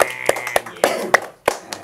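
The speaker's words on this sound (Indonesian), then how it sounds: "Tepuk tangan dulu." A handful of sharp, separate hand claps during a photography podcast recording, irregularly spaced over about two seconds and close to the microphone rather than a full crowd's applause.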